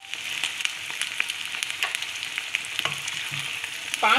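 Masala for a carrot and fenugreek keema fries in a pan with a dense crackling sizzle and frequent sharp stirring clicks against the metal, close and steady throughout, no speech.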